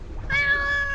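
A single cat gives one clear, close meow, rising then holding steady for a moment, with no one speaking.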